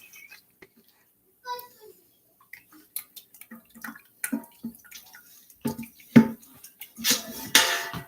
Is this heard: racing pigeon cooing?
no